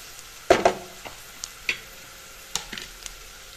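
A spoon scrapes and taps against a pan as ground coriander and cumin fry for a chicken curry with brinjal, with irregular clicks over a faint, low sizzle.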